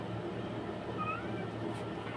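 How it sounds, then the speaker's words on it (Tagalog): A cat meows faintly in the background of a backyard vegetable garden in Saudi Arabia, one or two short, thin cries set against a steady low ambient hum, distant and quiet with no talking. "With may kasamang background na kulit na pusa."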